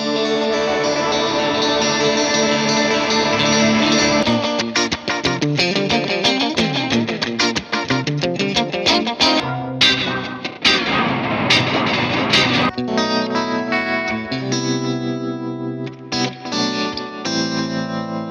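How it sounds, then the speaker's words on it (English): Electric guitar played through an Alexander Rewind Echo and Space Force Reverb pedal blend, sustained chords and picked notes washing into dense repeating echoes and long reverb tails, loud and continuous with no voices. "creating some really cool blends of reverb and delay algorithms with these two Alexander pedals"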